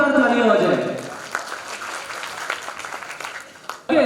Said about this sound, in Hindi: ऐसे जाबाजों, ऐसे हुनरबाजों के लिए जोरदार तालियां हो जाए